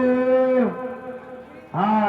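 Cattle at a village bull race moo loudly and close by, two long calls separated by a brief pause, with no talk over them.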